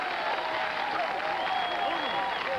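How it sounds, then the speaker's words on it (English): Studio audience applause on a late-night TV talk show, a steady wash of clapping from a crowd, filling the room without pause. "I want more applause right here for Living Color."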